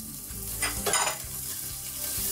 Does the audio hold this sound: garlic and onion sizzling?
yes